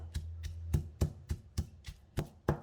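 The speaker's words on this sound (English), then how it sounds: "Add all the toasted shrimp paste and pound it to mix with the chili and garlic." Toasted shrimp paste, chili and garlic pounded in a mortar for Thai nam prik kapi: about nine heavy, evenly spaced thuds in a steady rhythm, close and fairly quiet, with no talking.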